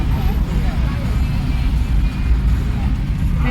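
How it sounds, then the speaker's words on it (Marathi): Inside a moving family car driving on a road, a steady low road and engine rumble filling the cabin, with people talking over it. "ते बघू शकता माझे मिस्टर गाडी चालवतात"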